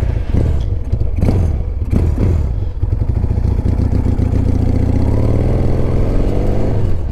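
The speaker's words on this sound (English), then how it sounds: "the reason why it sounds like an old British bike is because of that crankshaft" A 1975 Yamaha XS650 twin with a 360-degree crank rumbles loud and close, blipped a few times before settling into a steady, throbbing idle.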